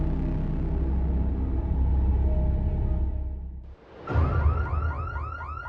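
A car alarm sounds at night: a low steady droning tone first, then after a short dip a looping warbling electronic wail rising and falling repeatedly, loud and near with no voices.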